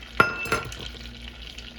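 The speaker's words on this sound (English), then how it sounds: "So we've got our butter melting down. We're gonna add in 1/2 cup of brown sugar. We're gonna let that cook down a little bit." Butter and brown sugar bubble in a pan into caramel for sticky toffee pudding, with two sharp utensil clicks near the start, then a soft, steady sizzle.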